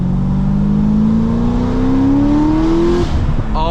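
Chevrolet C6 ZR1 Corvette with a modified exhaust accelerating through a gear, heard from inside the car as a loud rising engine drone that climbs steadily, then drops at the shift.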